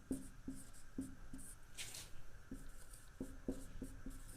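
A marker or chalk taps and scratches across a board in short regular strokes, quiet and close, with a brief rub partway through.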